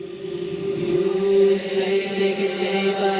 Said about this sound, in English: is kind of like a reverse reverb layer.